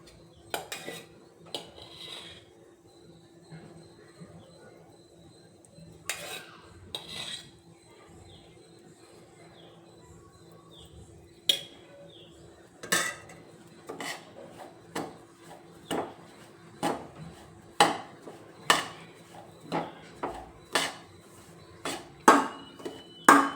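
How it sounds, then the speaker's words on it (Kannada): Ghee-coated rava is stirred in a pan for rava ladoo, first with sparse scrapes, then a run of sharp, regular knocks and clinks of a spoon against the pan that grow louder and quicken toward the end, with no talking. "ತುಪ್ಪ ಎಲ್ಲ ಕಡೆ ಬೆರೆಂಗೆ ನೀಟಾಗಿ ಹುರ್ಕೊಳ್ಳೋಣ."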